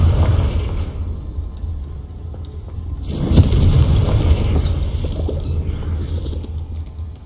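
A Confringo spell from Hogwarts Legacy goes off as a deep booming blast, one loud low burst with a crackling tail over a rumbling background, alone with no voices.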